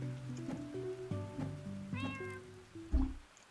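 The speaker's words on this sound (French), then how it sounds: "Alors, j'entends un chat." A cat meows a couple of times in the video game Tchia, over a soft, tonal background of music with a steady hum, fairly clear and close.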